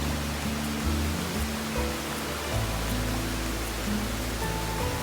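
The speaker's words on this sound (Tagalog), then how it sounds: "Malakas yung agos." Strong rushing current at the Mirror Pool and Brides Pool waterfalls, a steady broadband roar of flowing water that fills the whole stretch with no break, close and constant.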